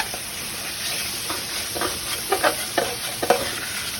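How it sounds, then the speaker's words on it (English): Vegetables sautéing in a pan with browned bits left from hamburger patties, frying at a steady sizzle while a utensil scrapes the bottom in several short, rising strokes toward the end. "So all you do is just saute your vegetables and scrape up all that brownness from the hamburger patties"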